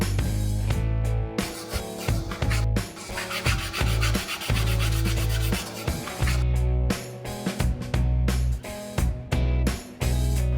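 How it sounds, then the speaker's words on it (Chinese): A clear epoxy axe blade is ground by hand on a wet kitchen-knife whetstone, making loud, steady back-and-forth rasping strokes in a continuous rhythm, with no talking. "磨菜刀的这个磨刀石了"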